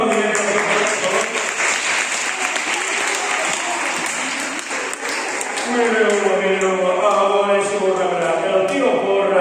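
A crowd at a live folk-tale storytelling show in Alcoi applauds loudly and steadily, with voices and cheers mixed in as the clapping carries on.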